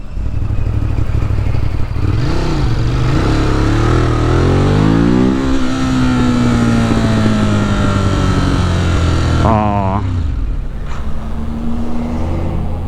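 A 2018 Ducati Monster 821 engine runs loud and close while riding around the city, revving up through rising pitch sweeps, dropping off, then revving again with gear-change dips and steady road noise throughout.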